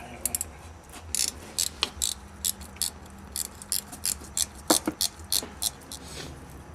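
A ratcheting wrench clicks in quick repeated bursts while removing the shifter bolts under a Nissan 240SX, close and fairly faint with no talk.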